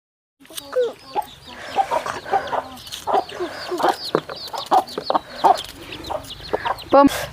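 Several chickens, including a rooster, cluck steadily and close by in short, repeated bursts, with occasional louder squawks, a lively farmyard with no talking.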